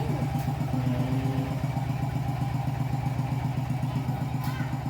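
A motorcycle engine chugs steadily in a fast, even rhythm close by, sounding like it is idling or pulling away at low speed, with faint talk and background noise around it.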